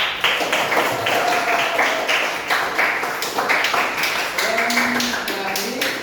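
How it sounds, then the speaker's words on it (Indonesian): A classroom of students claps together at the end of a morning lesson, a dense steady patter of many hands lasting several seconds, with a few voices calling out faintly underneath. "untuk tepuk tangan kita semua"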